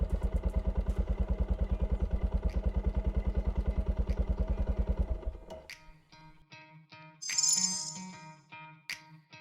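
An Italika V200 Adventure motorcycle engine, started remotely while in neutral, runs with a steady rapid pulse for about five seconds and then cuts out. Light clatter and rattling follow.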